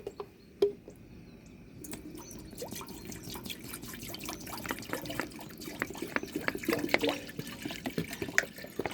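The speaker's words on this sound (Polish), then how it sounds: "Zaczynam od wlania 2 litrów wody do garnka." Two litres of water go into a cooking pot in a home kitchen: scattered drips and splashes first, then a fuller, continuous watery rush, quiet and close by.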